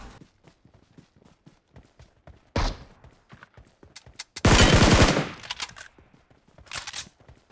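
Gunfire in the mobile battle game PUBG Mobile: scattered rapid shots, then a loud burst and a longer heavy volley of automatic fire, followed by more sporadic shots.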